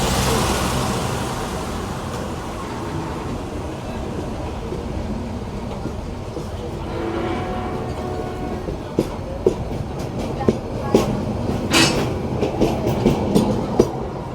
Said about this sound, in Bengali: ফেনি জাংশনে চট্টগ্রাম ও চাঁদপুরের মধ্যবর্তী চলাচলকারী একটি ট্রেন